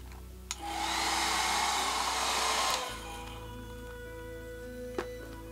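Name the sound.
dryer blowing to dry a craft piece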